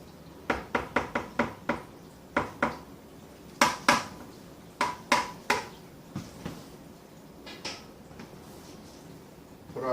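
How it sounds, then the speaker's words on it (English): Pumpkin makgeolli mash stirred in a pot, a series of sharp knocks and clinks of a utensil against the pot walls, irregular taps in small clusters, moderately close, with no talking. "we'll give it a good stir here"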